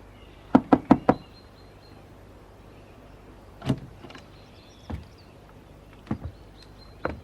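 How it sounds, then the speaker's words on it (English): A fist knocks on a door in a radio drama: four quick, close raps open the scene, followed after a pause by a few softer, scattered knocks over a quiet room tone. "you knock on the door"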